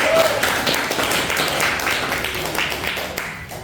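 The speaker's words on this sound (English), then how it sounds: "Give applause, everyone." A class of students applauding during an English lesson, a modest stretch of scattered clapping in a classroom with a faint tone near the start.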